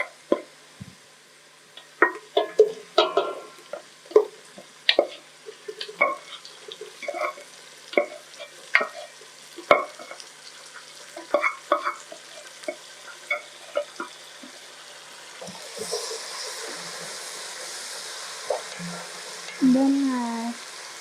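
Boiled beef frying in a pot of pilau as it is stirred, with repeated scraping and clattering strokes over a steady sizzle that swells into a louder, brighter hiss near the end; no one talks.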